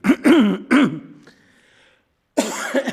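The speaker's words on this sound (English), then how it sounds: "Just need to clear my throat, sorry." Someone clears their throat a few times in close, rough bursts during a council planning committee meeting, followed by a pause, then another harsh throat clearing.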